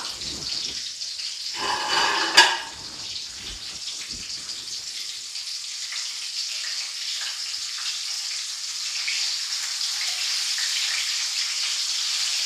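Pork dumplings deep frying in hot oil give a steady, dense hiss and crackle throughout, with a brief louder spatter burst near the start before settling into an even sizzle; no one speaks.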